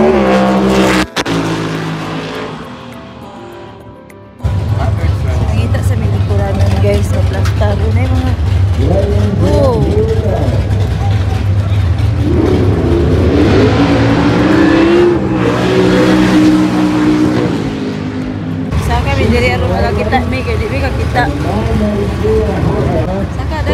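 A red muscle car drag races on a Route 66 street in Kingman, its engine roaring and revving hard as it launches and passes, loud and close, with spectators talking over the noise.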